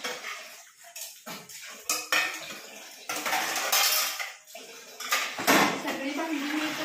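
Dishes, pots and pans being scrubbed and handled in a home kitchen sink, with close metallic clatters, scraping and running water coming in irregular bursts.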